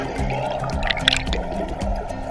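Portable Estream water turbine generator set into running water, with a steady gurgling, trickling stream carrying on throughout, close by and fairly loud, with occasional low thumps and splashes.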